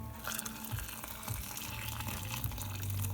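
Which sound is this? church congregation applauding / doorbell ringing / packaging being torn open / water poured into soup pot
water poured into soup pot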